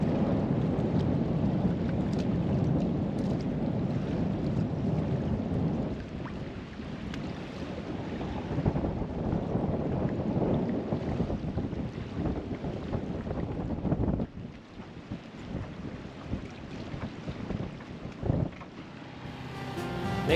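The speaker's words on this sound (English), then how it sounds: "but it has been very, very windy" Strong wind roars and buffets steadily on a sailboat in Bora Bora, French Polynesia, with heavy low rumble and gusting noise throughout, no voices.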